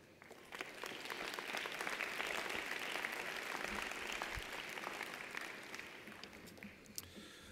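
Sustained audience applause greets new doctoral graduates at a university college of education spring commencement, a dense wash of many hands clapping that swells early, holds steady and slowly thins toward the end.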